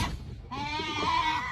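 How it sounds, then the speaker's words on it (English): A goat on a farm gives a short, close bleat with a wavering, nasal quality, alone, lasting under two seconds. "Put the goat down. Drop the goat."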